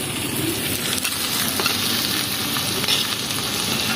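Chicken with whole spices cooks in an earthen clay pot over a wood fire on a mud stove, giving a loud, unbroken sizzle and crackle with faint stirring throughout.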